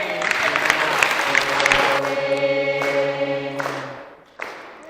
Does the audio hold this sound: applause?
yes